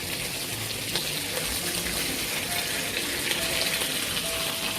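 Chicken thigh pan-frying with garlic slices, a steady dense sizzle that runs loud and unbroken throughout, close to the pan with no voices.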